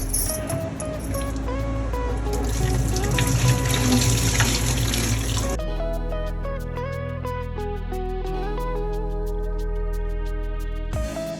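Tap water runs steadily into a clay water pot (matka) as it is rinsed clean without soap, washing out dark water. The flow is close and continuous, and its tone shifts partway through as the water pours differently.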